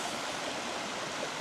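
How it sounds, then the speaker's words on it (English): A small, crystal-clear mountain creek in the bush near Arrowtown flows with a steady, close, broadband rushing babble, with no other sounds. "Beautiful little creek here."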